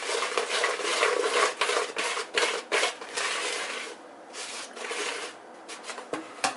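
Flour for coating fresh ocean perch fillets is stirred and mixed in a bowl, giving close scraping, clinking and rustling sounds in irregular bursts with short pauses.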